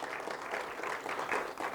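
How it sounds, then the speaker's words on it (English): An audience at a cloud-native applications conference session claps, a dense, steady patter of many hands filling the space at moderate volume for under two seconds, without talk. "Let's have a bigger round of applause, everyone."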